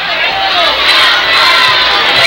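A loud, sustained roar of cheering and shouting from the crowd at a Hickory Ridge versus Central Cabarrus high school football game, steady and dense for the whole stretch with a few voices rising above it.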